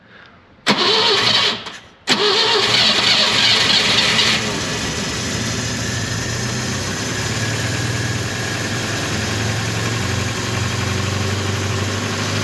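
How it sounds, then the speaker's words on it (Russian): A Moskvich car engine cranks, catches briefly, cranks again, then starts and settles into a loud, steady idle running close by. "Сейчас послушаем еще раз, как работает мотор."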